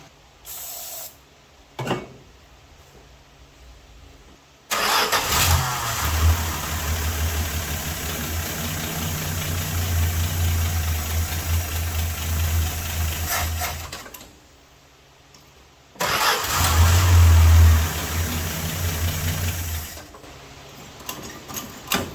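A 1974 Dodge Dart Sport that has sat for 22 years cranks over in two long bursts, a steady churning starter-and-engine drone lasting several seconds each, separated by brief quiet, with no talk.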